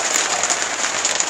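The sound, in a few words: heavy rain and hail falling outside a shed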